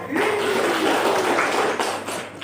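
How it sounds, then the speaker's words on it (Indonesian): Classroom applause from a group of students after a lesson question, a short burst of clapping filling the room, steady and fairly loud before tapering off at the end, with possible faint voices mixed in. "tepuk tangan dulu untuk kita"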